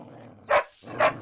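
A dog barks twice in quick succession, two short, close, loud barks with no other sound.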